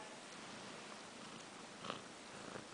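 A cat purring at an adoption shelter, a soft steady rumbling drone heard faintly and close, with a small rustle near the end and no talking.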